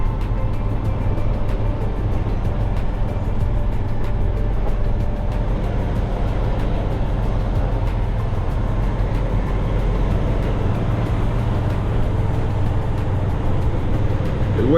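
Low steady engine rumble from company trucks parked in a lot, a constant close drone of idling motors with no break, loud and unvarying throughout.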